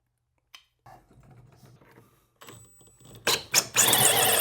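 A power tool starts up and bites into a drain pipe during a bathroom remodel, rising into a loud, sustained bright cutting whine after a few quiet handling clicks.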